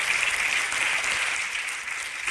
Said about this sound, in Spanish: Por favor, denle un aplauso al Señor.